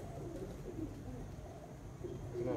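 Pigeons coo softly in repeated low phrases, with faint background murmur and a slightly louder call near the end.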